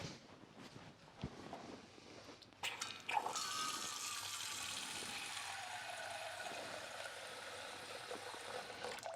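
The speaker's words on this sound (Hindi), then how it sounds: "तो इसमें सबसे पहले मैं पानी डालता हूँ" Water pours steadily into a pot while a cake is being made on a kitchen stove; a steady, close rushing splash starts after a few seconds of quiet handling noise and continues to the end.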